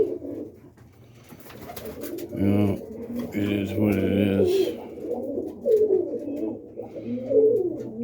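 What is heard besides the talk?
roller pigeons cooing in a loft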